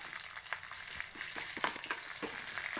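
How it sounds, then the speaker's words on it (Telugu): Green chilies frying in a pan with a constant close sizzle and crackle, broken by small pops and light stirring sounds. "పచ్చిమిరపకాయలు వేగాలి, కొంచెం తెల్లగా వచ్చే వరకు వేసండి."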